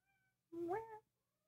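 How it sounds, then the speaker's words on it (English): A cat gives a single close, drawn-out meow with a rising, whining tone, alone in a quiet room. "All I can hear is this awful cat."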